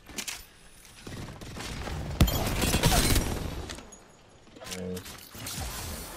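Gunfire in the Apex Legends battle royale game, a burst of shots in the middle with more scattered firing around it, heard under players' voice chat.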